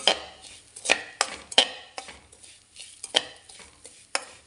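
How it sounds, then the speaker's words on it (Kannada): Ingredients for mango phirni being stirred in a pan, a series of separate scraping and clinking strokes of a utensil against metal over a faint sizzle. "10 ನಿಮಿಷ ಆಯಿತು, ಚೆನ್ನಾಗಿ ಫ್ರೈ ಆಗ್ತಾ ಉಂಟು"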